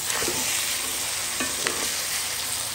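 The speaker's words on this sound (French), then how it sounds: "Mélange un petit peu. Parce qu'il croûte dessous." Lamb masala frying in a pan over lowered heat and catching on the bottom as it is stirred, with steady loud sizzling and a few scraping strokes, no voices.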